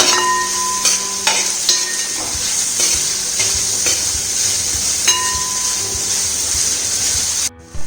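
Sliced onions sauté loudly in a pan for a Kerala chicken roast. A dense, close sizzle runs throughout, with spoon taps and scrapes against the pan, and it drops away briefly at the very end.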